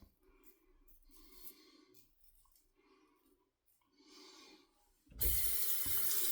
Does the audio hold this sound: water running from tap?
yes